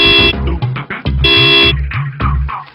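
Car horn honking on a street in a residential neighborhood: two long, loud, steady blasts separated by a short gap, with voices and movement around them.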